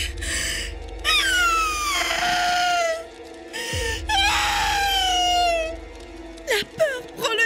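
Two long, wailing screams of fright rising and falling as a horror narration effect, loud and close, separated by a brief gap and ending in short gasping cries.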